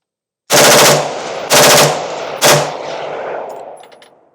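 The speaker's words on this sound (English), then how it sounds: "let's go ahead and pop a few rounds here in semi first." A rifle with a forced reset selector fires three loud semi-automatic rounds about one second apart. Each sharp blast rings out, and after the last shot the echo trails away.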